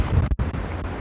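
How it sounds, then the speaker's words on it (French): Wind gusting against an outdoor microphone, a loud low rumbling roar that surges and briefly drops out before blowing on steadily, with no voices. "Il y a du vent."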